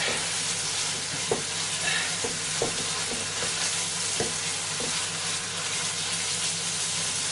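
A creamy yoghurt chicken curry sauce with added stock reduces in a pan, giving a steady close bubbling sizzle with occasional soft stirring knocks and no voices.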